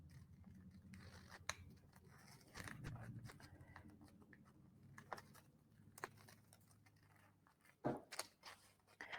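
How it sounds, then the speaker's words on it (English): Scissors snip and crunch through fabric for a Winter Cardinal sewing project, the tracing marked on the cloth, in a quiet series of close, irregular cuts with small handling noises between them. "I'm going to just cut that out."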